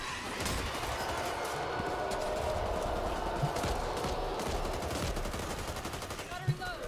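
Rapid gunfire in Back 4 Blood aimed at a zombie, a steady, dense burst of shots close up that runs almost the whole stretch with sharper single cracks near the end, over game noise and background voices.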